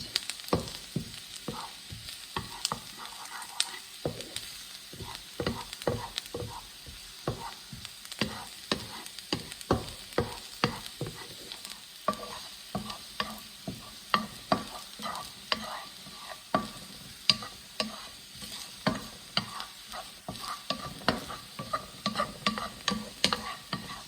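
Onions caramelizing in a pan with a soft, continuous sizzle broken by frequent scraping stir strokes, close and clear with no talking.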